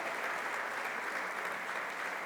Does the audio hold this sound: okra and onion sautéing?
no